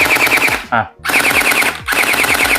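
Rapid full-auto bursts from a gel blaster, a fast mechanical chatter in two long strings separated by a brief pause, loud and close.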